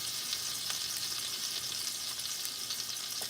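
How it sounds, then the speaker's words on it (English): Food frying in a pan, pressed down to crisp, gives a steady close sizzle with fine crackling pops throughout, with no talk. "Sizzling."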